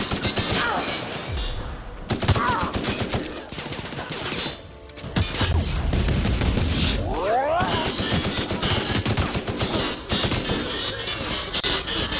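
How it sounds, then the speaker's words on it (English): A turret opening fire in The Outer Worlds, rapid bursts of gunfire and crashing impacts with whooshing sweeps, loud and sustained across most of the clip, with a brief lull near the middle. "Oh, that's a turret."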